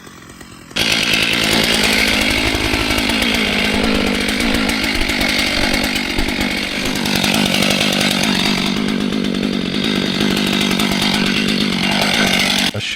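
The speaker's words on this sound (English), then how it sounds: "A sharp chainsaw roars in the worker's grip" A chainsaw roars loudly and steadily right up close, its engine pitch wavering as it bites through a tree trunk, with no break after the first second.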